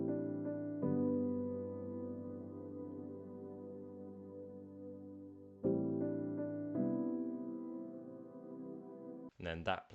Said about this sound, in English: So that melody with the piano just sounds like this.